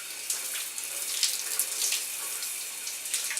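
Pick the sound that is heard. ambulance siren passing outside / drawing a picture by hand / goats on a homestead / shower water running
shower water running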